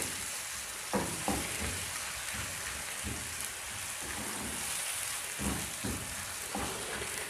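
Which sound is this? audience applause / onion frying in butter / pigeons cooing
onion frying in butter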